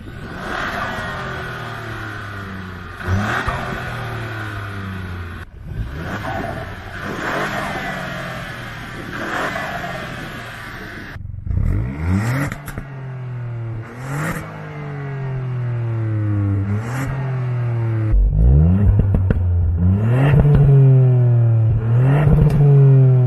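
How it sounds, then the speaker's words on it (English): Ford Puma ST engine accelerating hard through repeated gear changes, each rising pitch sweep cut by a shift, with a throaty exhaust note growing louder toward the end. "There's also a difference in the exhaust note, which we're going to hear in a little bit."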